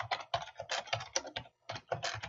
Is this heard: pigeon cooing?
no